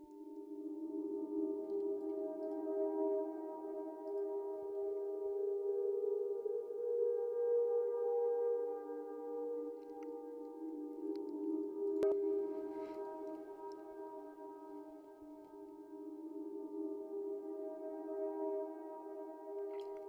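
A sustained, hazy musical tone is drowned in heavy reverb, with washed-out harmonics swelling and fading slowly; quiet and steady throughout.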